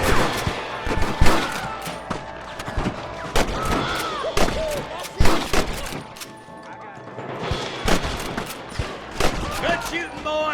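Gunfire in the Western video game Red Dead Redemption 2: loud, dense volleys of rifle and pistol shots crack in bursts over about ten seconds, with shouting voices mixed in among the blasts.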